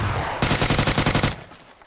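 Automatic gunfire in PUBG erupts as a loud, rapid burst of roughly a dozen shots, about a second long, then cuts off into a fading echo.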